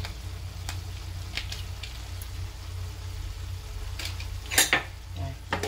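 A utensil scrapes and clinks against a pan while sautéed pechay, cooked without added water, sizzles softly underneath. A few sharper clatters come near the end, and no one talks.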